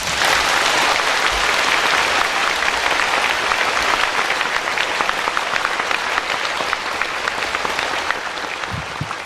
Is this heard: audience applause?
yes